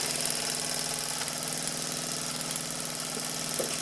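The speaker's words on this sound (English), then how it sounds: "That's probably the best running upright engine I've got. Very, very smooth." A Doll 320/3 upright model steam engine, freshly repaired and painted, runs smoothly under steam with a steady, even, rhythmic mechanical hum and buzz that stays constant throughout, close by and moderately loud.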